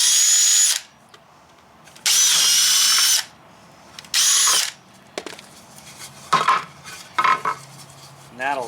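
Power drill spinning a 7/64 bit to finish holes in a Promaster 2500 van wall frame: three loud, close bursts of high whine with quiet gaps, then lighter clinks and handling noises.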